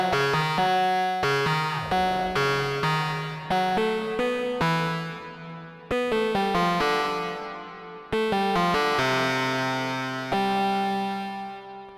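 Synthesized tones run through a reverb effect built from Reaktor Blocks modules, with a sequence of sharply plucked notes whose tails ring out and decay into a lingering wash, no voices.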